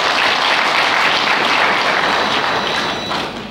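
An audience at a Burundi training centre's graduation certificate ceremony applauds loudly and steadily, dense many-handed clapping close up that starts to fade only at the very end, with no talking over it.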